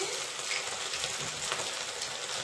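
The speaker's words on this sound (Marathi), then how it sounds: "आता आपण सुरू करूया तळायला।" Chicken pieces frying in hot oil for Chicken 65, a steady, dense sizzle with fine crackling that holds an even level throughout, close and continuous with no talking.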